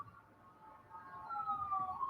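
A faint police siren wails in the distance, its tone gliding and rising over a quiet background.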